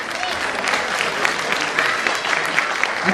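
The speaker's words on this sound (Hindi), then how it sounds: "अच्छा लग रहा है तो बजा दीजिए तालियां" A crowd of parents clapping at a school annual function, a dense continuous patter of many hands filling the hall, moderately loud and steady.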